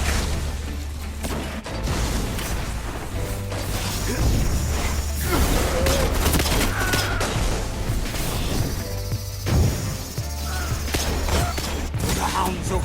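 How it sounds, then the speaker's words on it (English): Heavy, booming gunshots from a video game hand cannon, fired several times in succession with metallic mechanical clicks and whooshes between shots. "So just take a listen to this hand cannon."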